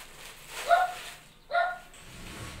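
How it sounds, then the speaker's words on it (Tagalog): A dog barks twice, fairly close and moderately loud, with a short gap between the sharp yelps, over a quiet indoor background during snake plant repotting. "Ayan ang aso."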